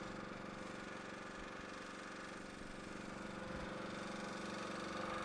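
The engine of a 2002 Leeboy L150 tack distributor idles steadily, a low constant rumbling drone with a faint knocking pulse, unbroken and moderately quiet throughout.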